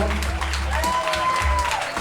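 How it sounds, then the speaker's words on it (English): Wedding guests clapping and cheering for the bride and her father, a short burst of applause with a voice over it and music underneath. "make some noise for Alana and her father"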